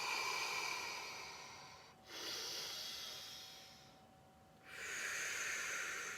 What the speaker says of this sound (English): So breathing in through the nose.